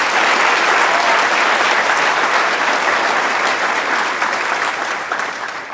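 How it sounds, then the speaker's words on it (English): Dense, loud applause from a theater audience at a school wax museum show, sustained clapping that tapers slightly toward the end, no talk. "can we have a round of applause for everybody that put time into this?"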